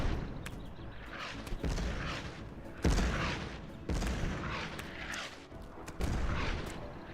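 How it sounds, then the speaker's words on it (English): Booming explosions from a Sonic-style platform video game go off in a series of sharp bursts, each followed by a rumbling decay, several in quick succession at moderate loudness. "Are those explosions loud? They're kind of loud for me."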